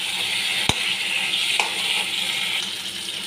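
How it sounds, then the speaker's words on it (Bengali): Potato pieces with ground cumin and sugar fry in a pan with a steady, loud, close sizzle. A couple of brief utensil clinks come from stirring. "আলু দিয়ে ভালো করে আমি কষিয়ে নিচ্ছি।"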